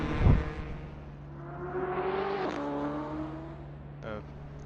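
A BMW race car sweeps past with a rising then falling engine whine, a sharp thump at the start and a brief clatter near the end, against a steady low hum.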